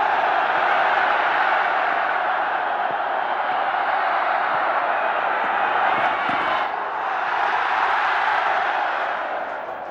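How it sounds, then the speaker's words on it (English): Large cricket crowd at an India versus Pakistan Test match in 1999 cheering continuously, a dense, loud roar of many voices holding steady throughout with a brief dip near the end. "Very happy crowd there."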